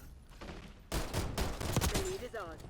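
Akimbo GS45 pistols fire in a video game, a rapid cluster of loud, close shots in quick succession after a brief quieter lead-in, ending in a ringing tail.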